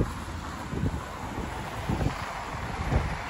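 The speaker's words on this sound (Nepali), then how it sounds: "उठिरहेको छ नि त खतरा हावा चलिरहेको" Strong wind gusts roar past the microphone during a sudden snowfall, a constant rushing buffet with uneven surges and no talking.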